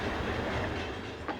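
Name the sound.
SNCF class 6500 locomotive 6501 hauling freight train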